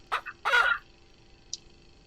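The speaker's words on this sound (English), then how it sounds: "it is definitely my favourite chicken coop" Chickens in a coop in Ranch Simulator give a couple of short, close clucks followed by a louder squawk and a faint chirp, over a quiet background hum.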